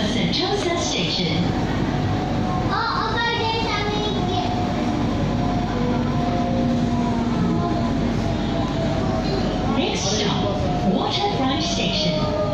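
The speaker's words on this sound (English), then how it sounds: "This train is bound for Sentosa Station." A train bound for Sentosa Station in Singapore rolls along with a steady, loud rumble and hum that carries on continuously from start to finish, overlaid with faint tonal whines and scattered background voices.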